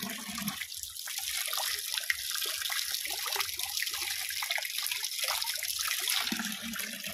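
Water drains steadily from a concrete fish pond as a continuous broadband rush and trickle, even in level throughout and heard alone without voices.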